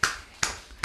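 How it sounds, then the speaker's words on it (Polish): Three sharp hand claps made from the wrist, evenly spaced about 0.4 seconds apart, each a crisp snap-like crack close to the listener. "Wystarczyło zacząć klaskać z nadgarstka"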